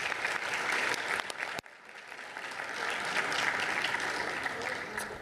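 An audience claps at a city commission meeting, with dense, fairly faint applause that briefly dips and then continues steadily to the end.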